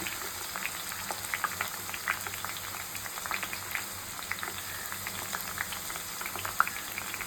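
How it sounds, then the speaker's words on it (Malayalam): Shallots crackle and pop in hot oil, a steady bubbling hiss dotted with frequent sharp little snaps, close by and without talk. "അപ്പോൾ ഉള്ളിയാണ് ഈ പൊട്ടിക്കൊണ്ടിരിക്കുന്നത്, ചുവന്നുള്ളി."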